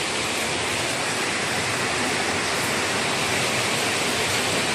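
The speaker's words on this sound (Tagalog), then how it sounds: "Lakas ng ulan" Heavy rain pours down in Baguio City, Philippines, a dense, unbroken roar of water that stays loud and even throughout, with no voices.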